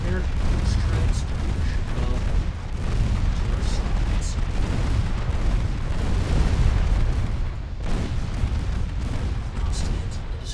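Warship main-gun salvos in the naval combat game Ultimate Admiral Dreadnoughts, a dense continuous barrage of booming blasts filling the whole stretch, loud and layered with little pause.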